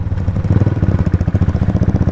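Motorcycle engine chugging in a fast, even rhythm while riding a small road at night in Uttarakhand, close and loud with no talk.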